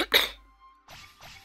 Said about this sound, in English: I'm good at coughing and annoying everyone with that as well